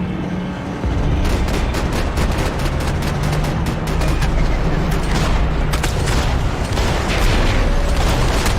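Dense, loud gunfire from the Max Payne 3 PC game, a steady barrage of shots and booms running almost without pause through the whole stretch, with little else standing out.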